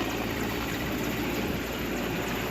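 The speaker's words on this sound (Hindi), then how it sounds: "देखिए कैसे ये एनडीआरएफ की टीम जोशीमठ के हेलीपैड पर इस तरीके से हेलीकॉप्टर से पहुंची है" An army helicopter carrying an NDRF rescue team lands at the helipad in Joshimath, Uttarakhand, its engine and rotor giving off a steady, loud, continuous roar with no voices over it.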